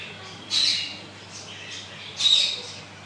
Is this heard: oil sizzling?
no